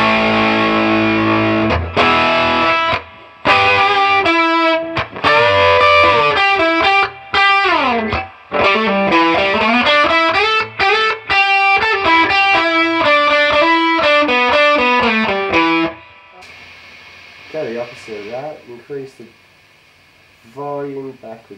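Electric guitar through an Artist Guitars Green Scream overdrive pedal, loud crunchy distorted riffs and sustained notes with brief gaps, then quieter picked phrases near the end.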